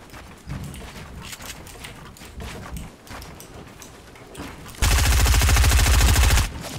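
Fortnite gunfire pops in scattered distant shots, then a loud, dense burst of rapid automatic fire erupts close by for about two seconds.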